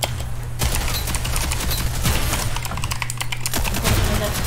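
Gunfire in the shooter game Rogue Company rattles in dense, rapid bursts close by, nearly continuous over a low hum, with keyboard-like clicking and a voice speaking at times.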